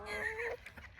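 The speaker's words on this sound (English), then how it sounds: "it's two ducks being snarky with each other." Two ducks squabble with a short, loud honking quack followed by choppier, softer calls and faint splashy noise, all within about a second.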